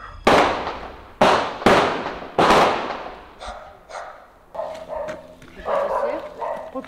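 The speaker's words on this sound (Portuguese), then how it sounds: "A troca de tiros é com o criminoso apontado como matador profissional" Sharp gunshots crack in a police shootout with a suspected professional hitman, four loud broadband bangs in quick succession, then fainter shots and scattered commotion with background voices.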